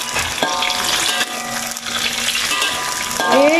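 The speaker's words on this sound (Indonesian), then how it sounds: "Waktu goreng ni, korang kena hati-hati sikit sebab dia suka meletup." Food frying in hot oil for a spicy Malaysian ayam penyet sambal, sizzling loudly and continuously while being stirred, with sharp spattering pops and a scraping utensil sound in a home kitchen.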